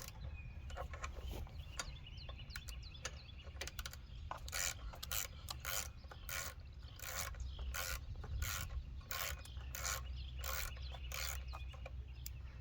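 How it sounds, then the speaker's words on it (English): Ratchet clicking as it loosens 8mm bolts on the fuel tank of a Huskee tiller, a run of quick repeated rasping clicks in bursts through most of the clip, close and fairly quiet, with no talking. "And once you loosen it, you can take it off the ratchet and just unscrew it yourself."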